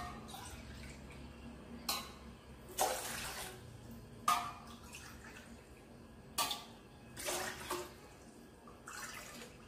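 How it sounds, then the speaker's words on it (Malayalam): Five cups of water are poured one after another into a pot for Kerala payasam, heard as a series of separate short, close splashing pours over quiet background with no talking. "വെള്ളം നമുക്ക് അങ്ങോട്ട് ഒഴിച്ചു കൊടുക്കാം."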